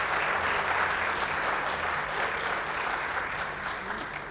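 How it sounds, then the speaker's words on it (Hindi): An audience claps steadily in sustained applause, a loud, even wash of hand claps that fills the whole stretch and fades slightly at the end. "तालियां। हर वक्त तालियां।"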